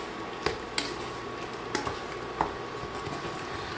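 Spoon stirring a thickening peach mixture in a pot over medium to medium-low heat, several soft scraping knocks against the pot over a low continuous simmering sizzle, close and fairly quiet.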